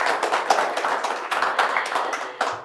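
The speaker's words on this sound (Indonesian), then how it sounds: "Boleh saya dengar sekali lagi tepuk tangannya?" A studio audience of ministry office staff at a television broadcast claps, a moderately loud, uneven patter of hands with sharper individual claps standing out, lasting a couple of seconds.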